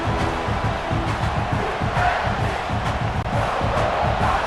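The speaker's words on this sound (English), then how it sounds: "It's early, but this crowd is fired up. Listen to this noise here." A large video game crowd in EA Sports College Football 26 roars and cheers continuously, a dense wall of voices with a steady low rumble underneath, sounding like a packed stadium.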